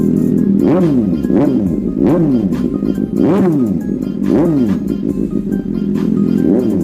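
A Yamaha R15 V4 motorcycle engine revs in short, repeated bursts, about five sharp throttle blips climbing and falling in a steady rhythm, loud and close.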